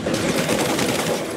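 Rapid gunfire crackles in Marvel's Spider-Man Remastered, a dense, continuous burst of automatic shots that fills the short moment at steady loudness.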